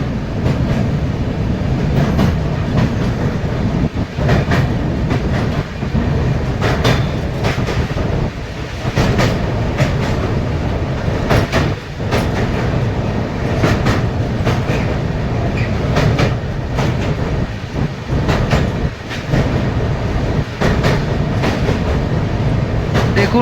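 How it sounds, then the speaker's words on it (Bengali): Uttarbanga Express crossing Bally Bridge over the Ganga at night: loud, continuous rolling rumble with repeated clickety-clack wheel beats over rail joints, heard up close with no talk. "রাতের অন্ধকারে ট্রেন বালি ব্রিজ পার করছে"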